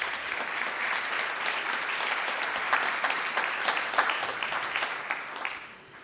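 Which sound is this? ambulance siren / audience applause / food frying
audience applause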